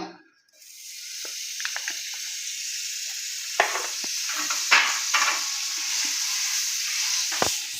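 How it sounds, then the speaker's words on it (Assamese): Butter sizzles in a hot pan before whisked egg goes in for an omelette, a steady hiss marked by scattered crackles and soft pops, with a few light clicks near the end. "তেৱা গৰম হৈ গ'ল। মই ইয়াতে অকণমান বাটাৰ দি দিছোঁ।"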